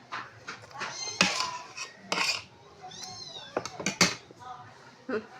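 A pet cat meows several times, close and insistent, its cries mixing with clinking dishes and cutlery at a meal while a person talks nearby.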